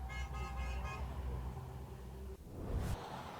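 Car horns honking in support of striking auto workers at a mid-Michigan plant, a sustained horn tone then traffic passing by, with a brief sharp toot near the end, heard outdoors roadside.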